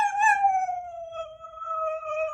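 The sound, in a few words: dog howling in reaction to owner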